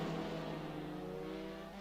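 Race cars in a UK F3 sim racing game at Oulton Park, a continuous engine drone with steady tonal whine, fairly quiet and held throughout, slowly fading slightly.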